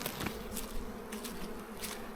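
A low, steady hum of many honeybees buzzing close by in a nucleus colony, faint and continuous with small bursts of wingbeat noise.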